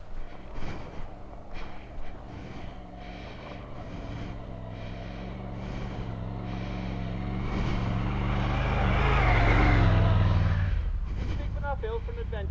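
Triumph adventure motorcycles climb a steep, loose and slippy hill, engines building from a distant drone to a loud, sustained roar near the end, with people talking over the early part.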